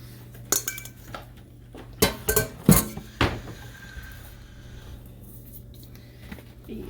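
Sourdough dough is dumped into an oiled bowl, with several sharp clinks and knocks against the bowl in a short burst. Softer scraping and handling noises follow, close and fairly quiet.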